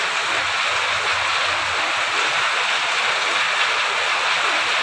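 Steady, dense rain pours down continuously during a flood-threatening storm, a loud broadband wash with no breaks and no voices.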